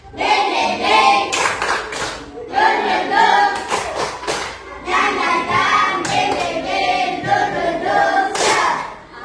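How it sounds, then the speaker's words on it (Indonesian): Schoolchildren in a classroom lesson on Umrah perform a rhythmic spirit clap together, bursts of patterned group clapping in several phrases, loud and close, with brief chanting voices between the claps. "untuk menumbuhkan semangat kita bersama-sama tepuk semangat"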